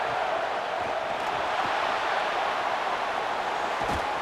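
Steady crowd noise fills the stadium in a college football video game between LSU and Virginia Tech, forming a dense, even roar with no distinct peaks and no talk.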